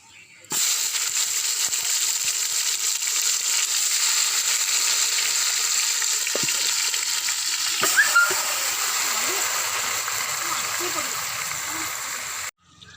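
Marinated chicken fries in masala for chicken dum biryani, giving a steady, close, loud sizzling hiss that starts abruptly, holds evenly for about twelve seconds with faint stirring touches, then cuts off.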